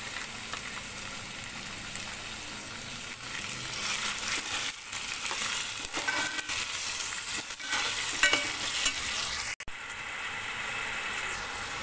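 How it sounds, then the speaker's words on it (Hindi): Chopped tomatoes frying and being stirred in a pan for mutton masala, a steady loud sizzle with scraping stir strokes throughout and no talking. "टमाटर डालकर भी अच्छे से भून लेना है हमें।"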